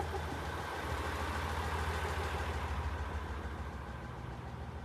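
A fishing boat's inboard engine, housed below the cabin while the moored boat idles, gives off a low, steady chugging hum, faint and even throughout with no voices.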